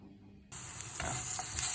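Garlic fried rice, made from leftover rice, hits a hot pan with a sudden loud sizzle partway through, then keeps up a steady crackling hiss with a few stirring scrapes.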